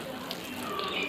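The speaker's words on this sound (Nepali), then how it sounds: "पानी यसरी दिनुपर्छ" Water pours steadily onto potted flower plants at home, a soft continuous trickling splash, close and fairly quiet, with no talk over it.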